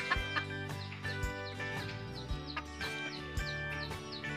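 A domesticated red junglefowl rooster, a deep red-purple bird, clucks repeatedly in short, near, moderately loud bursts over a steady background hum.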